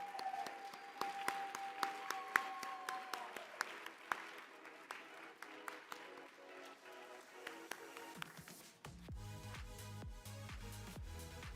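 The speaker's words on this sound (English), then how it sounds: "Please give them another round of applause" Audience applause at a general meeting with First Lady Dr. Jill Biden, dense clapping from a crowd with sharp individual claps standing out, later blending into music or background sound toward the end.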